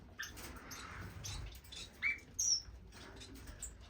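Strawberry finches chirping in an indoor bird room, a few sharp high tweets and soft calls scattered over quiet background rustle.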